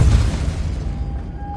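Depulso force spell cast in Hogwarts Legacy on PS5, a loud booming burst at the start that decays into a low rumbling tail, with a faint steady tone rising near the end.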